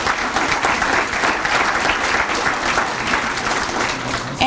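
A room full of guests at a chamber of commerce awards celebration breaks into loud, sustained applause, dense and even from start to finish with no talk.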